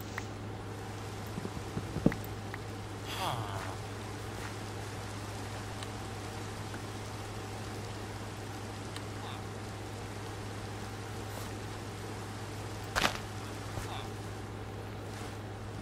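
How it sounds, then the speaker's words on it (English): A steady hiss of rain falls in the video game Minecraft, a constant soft wash under a low hum, broken by a few faint clicks and taps. "And it's raining, that's good, it can water our seeds."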